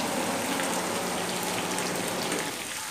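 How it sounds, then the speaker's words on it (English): An electric fan running in a home kitchen, giving a steady, broadband whooshing hiss that stays constant and fairly loud throughout with no talk over it. "It's a little bit noisy in here because the fan is on."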